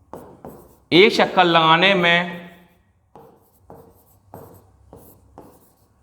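Pen or chalk strokes scratch out a maths solution in short, irregular bursts of writing with pauses between them, close and fairly quiet, while someone speaks loudly over part of it.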